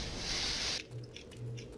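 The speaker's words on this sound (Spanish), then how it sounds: "Muy bueno el efecto de vapor." A steam vent hisses in the video game Black Mesa Xen, a loud, close broadband spray for under a second that cuts off abruptly, followed by quieter low ambient hum.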